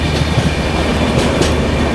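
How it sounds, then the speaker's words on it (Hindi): A Humsafar Express passing alongside on Mumbai rails, its generator car giving a steady loud roar mixed with rolling wheel clatter, close and continuous. "जनरेटर कार की आवाज आ रही थी"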